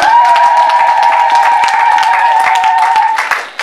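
A church congregation claps hands together, dense rapid clapping that stays loud and even before thinning out at the end, over a sustained musical tone.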